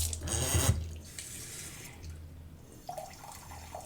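Hot water running from a kitchen tap while making dango dough, a close splashing stream at first that eases into softer running and dripping.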